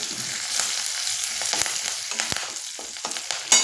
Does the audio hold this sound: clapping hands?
no